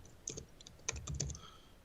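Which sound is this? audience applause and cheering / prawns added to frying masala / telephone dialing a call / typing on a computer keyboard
typing on a computer keyboard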